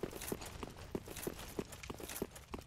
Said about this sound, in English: I was gonna say, I was hearing footsteps